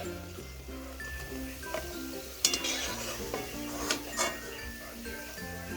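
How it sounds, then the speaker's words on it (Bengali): Fried lentil and ridge gourd fritters are lifted out of hot oil and moved into another pot, giving clinks and scrapes of metal utensils over a soft, continuous sizzle. "এখন অন্য একটা পাত্রে করে তুলে নিচ্ছি।"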